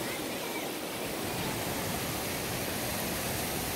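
A river flows nearby in a constant, even rush of water with no breaks and no voices over it.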